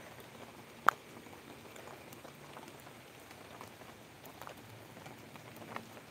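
Steady soft patter of rain on a surface, fairly quiet and continuous, with one sharp tap near the start; no voices.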